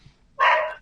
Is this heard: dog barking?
yes